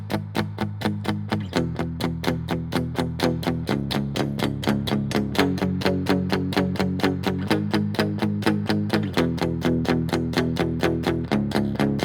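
Palm-muted electric guitar power chords play a verse of a song, a steady chugging eighth-note rhythm with distorted tone, shifting chords every couple of seconds, alone and close without any talking.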